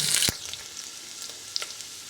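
A short loud crackle of coconut oil as mustard seeds and onion hit a pressure cooker, then a light, steady frying sizzle with small pops, fairly close.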